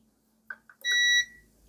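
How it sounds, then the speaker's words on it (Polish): A multimeter continuity beep while testing the heater of a DeLonghi ECAM23.420.SB espresso machine: a few faint clicks, then one clear, steady electronic tone about half a second long that cuts off cleanly. "badamy przejście na grzałce, czy piknie."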